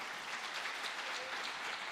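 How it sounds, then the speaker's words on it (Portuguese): A church congregation claps during a worship service, a brief burst of diffuse, even applause from many people, filling the moment without any voice on top. "dá uma salva de palmas ao Senhor"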